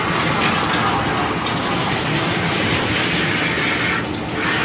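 Water gushes steadily over a dog in a bath, a dense, loud, continuous splashing stream from a tap or sprayer that briefly thins near the end, with no clear voices.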